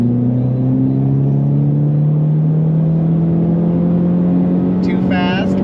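A tuned Ford Mustang EcoBoost pulls hard in fifth gear, its loud engine drone climbing steadily in pitch under a constant road rumble, with a brief voice-like outburst near the end.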